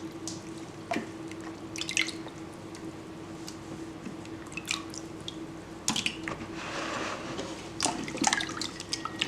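Fermented cassava being washed in clean water in a pot: water sloshes and drips with intermittent splashes and handling noises, fairly quiet and close, with no talking.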